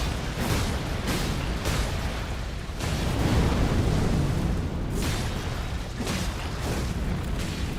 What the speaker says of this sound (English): it's right after the big explosion when he touches the ground